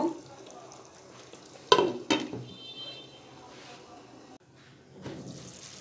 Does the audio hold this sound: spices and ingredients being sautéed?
yes